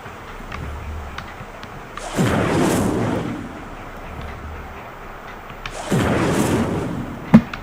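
Two separate fiery whooshing bursts from the Incendio fire spell in Hogwarts Legacy, each a roaring blast lasting about a second over a low background rumble, followed by a sharp click.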